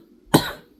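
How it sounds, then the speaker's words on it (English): A single short, harsh cough sounds close to the microphone and breaks the near silence before fading quickly. "I still got a cough"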